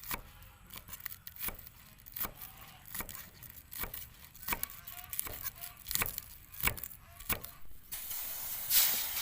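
Knife chopping chili and green onion on a cutting board in a rural outdoor kitchen, about a dozen sharp, fairly regular chops, close and crisp over a quiet background, with a brief hiss at the end.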